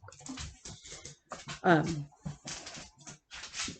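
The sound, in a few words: dachshund dog whimpering and barking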